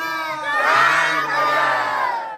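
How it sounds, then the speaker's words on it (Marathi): A noisy crowd gathers for photos, with loud overlapping voices, children shouting and cheering in a sustained, close hubbub. "फोटोसाठी गर्दी झाली."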